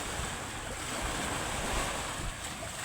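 Heavy sea waves surge around an island in Palawan while a strong northeast monsoon wind blows, a steady loud roar of surf and gusting air with no voices.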